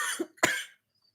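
A person coughs twice in quick succession, a short harsh bark followed by a louder, rougher burst, close to the microphone and then silence.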